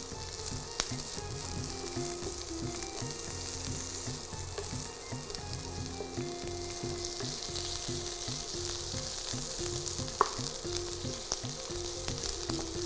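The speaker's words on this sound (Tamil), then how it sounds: "நல்லா வந்து வெங்காயத்தை வதக்க விடுங்க." Plenty of onions sautéing in a hot pan toward golden brown, a continuous close sizzle and crackle with rhythmic stirring clicks running throughout, no voices.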